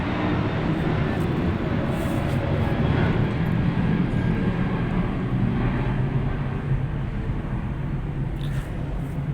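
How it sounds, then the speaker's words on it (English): An airplane passes overhead outdoors near a park, a loud, steady broadband roar that swells slightly and then eases off over several seconds. "the flight is just passing by"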